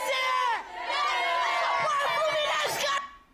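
Fluminense supporters sing together in the stands at Laranjeiras stadium, a loud massed chant of many voices rising and falling in pitch. It carries on nearly without a break and fades out at the very end.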